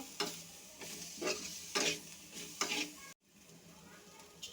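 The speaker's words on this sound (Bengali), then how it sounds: "তেলটা দিয়ে একটু ভাজা ভাজা করে নেব" Mustard oil frying in a pan, with a soft continuous sizzle broken by several close spatula scrapes, cut off abruptly for a moment before the sizzle resumes more quietly.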